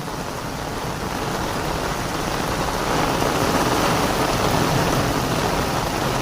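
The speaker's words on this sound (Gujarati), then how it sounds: "અતિ ભારે વરસાદ મિત્રો અચાનક ચાલુ થઈ ગયો જબરજસ્ત જોરદાર વરસાદ" Dense, constant roar of very heavy storm rain pounding nearby surfaces, growing slightly louder midway, with no voices.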